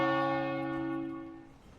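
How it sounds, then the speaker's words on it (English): A church-style bell rings loud and close, its long sustained tone slowly decaying over a couple of seconds with no voices over it. "I am not able to read these patch notes with this bell going off."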